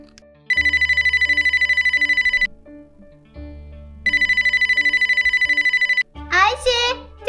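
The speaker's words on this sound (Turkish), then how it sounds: "Ayşe, telefonun çalıyor." A telephone rings in two long trilling bursts separated by a pause during children's pretend baby-care play, and a voice speaks right after the second ring.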